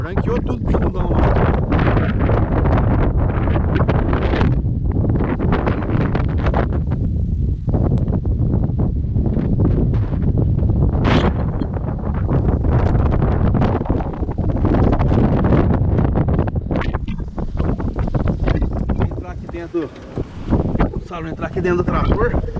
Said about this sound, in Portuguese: Tá ventando demais, de repente o áudio aqui fica um pouco mexiando. É por causa da ventania.